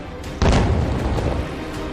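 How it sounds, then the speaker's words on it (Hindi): A drone boat blown apart by Russian close-in weapon system fire: a sudden loud boom erupts about half a second in, followed by a sustained rumbling roar that slowly fades. "रूस के क्लोज इन वेपन सिस्टम कैसे ड्रोन बोट पर फायर करते हैं और"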